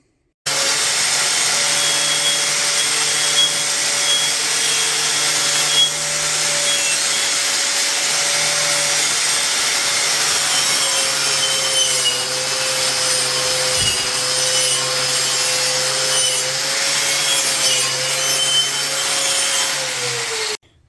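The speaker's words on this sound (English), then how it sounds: "get the wire wheel out and clean this surface rust off of here" A power wire wheel strips surface rust off metal pieces, making a continuous loud whirring grind with a steady motor hum that holds for about twenty seconds before stopping.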